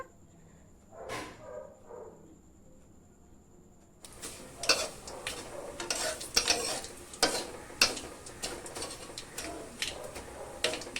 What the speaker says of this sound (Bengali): কারি পাতাটা আমি ভালো করে ভেজে নেবো হিং আর সর্ষের সঙ্গে